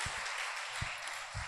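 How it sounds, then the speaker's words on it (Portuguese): Applause from a church congregation at a service honouring Mary as an exemplary mother: a broad, steady wash of clapping that fills the whole short moment, with a few low thumps underneath. "Forte aplauso ao Senhor."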